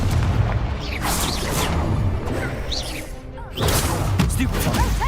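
Confringo spell blasts in the Hogwarts Legacy video game, repeated booming explosions with crackling bursts over a dense combat soundscape, with a player shouting spell names throughout.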